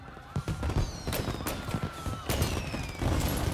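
Gunfire in the Mafia Definitive Edition video game: a rapid, irregular volley of shots cracking close by, several bursts overlapping across a few seconds.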